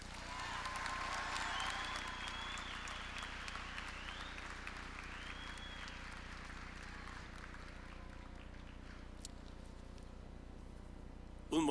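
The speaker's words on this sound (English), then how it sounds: "Let's give a round of applause for our principal" Audience at an Albuquerque High School graduation ceremony applauds its principal, a broad wash of clapping with cheering tones that peaks early and slowly thins toward the end.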